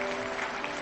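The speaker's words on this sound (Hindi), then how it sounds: "जैना साहब और वहाँ के भी लीडरों के लिए भी जबरदस्त ताली होनी चाहिए" Applause for leaders at a Hindi motivational business gathering: a dense, steady wash of clapping from a crowd that fills the whole moment without pause, with a faint tonal hum underneath.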